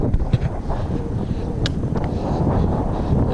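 Steady wind gusting across an exposed hiking track in South West Tasmania, buffeting the microphone with a continuous low rumble and brief louder surges, heard alone without talk.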